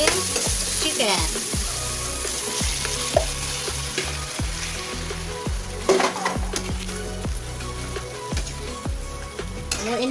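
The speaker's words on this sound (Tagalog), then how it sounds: "isunod na natin hulog ang ating chicken" Chicken dropped into a hot pan with crushed tomatoes for a Filipino chicken curry, sizzling and frying steadily throughout, with repeated scraping stirs of a utensil against the pan at a loud, close level.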